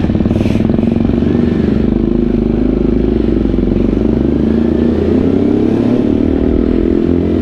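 A KTM Duke 390 motorcycle rumbles close by with a continuous loud, throbbing engine note at a bikes-and-cars night, a brief faint voice near the start.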